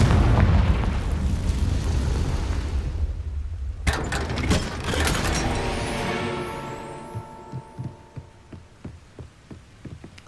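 A Confringo fire spell in Hogwarts Legacy bursts with a loud, heavy boom, followed by crackling debris and a series of fading smaller pops and thuds that taper off toward the end.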